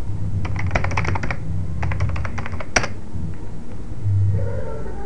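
A computer keyboard is typed in quick clustered bursts of crisp key clicks, a username and password being entered, with a sharp louder keystroke partway through and brief pauses between groups.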